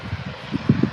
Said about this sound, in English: Here we go, off to Sharm el Sheikh, the EasyJet A320